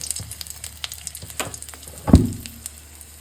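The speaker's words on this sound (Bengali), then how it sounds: "এখানে কড়াইতে আমি অল্প করে তেল দিয়ে দিয়েছি আমি শুকনো লঙ্কাগুলো এর মধ্যে দিয়ে দিলাম" Dried red chillies sizzle and crackle in a little oil in a wok, with a steady spitting hiss close by and one loud clatter of utensil against pan partway through.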